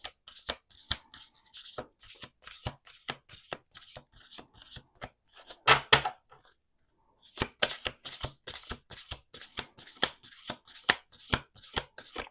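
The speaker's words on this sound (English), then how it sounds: "We're going to do one more shuffle after this." Tarot cards are shuffled repeatedly in quick riffling bursts, close up, with a short pause midway before the shuffling resumes.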